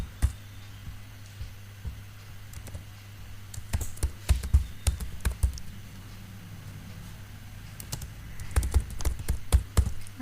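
Typing on a computer keyboard during a Python programming lesson, bursts of quick close clicks separated by pauses, over a steady low electrical hum with no talk.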